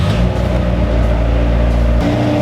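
A Honda EG hatchback on air suspension drives along, a steady loud engine drone with a dense rumble that holds constant throughout, no voices.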